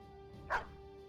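A dog in the video game Battle Brothers gives one short, faint bark against a quiet, humming background.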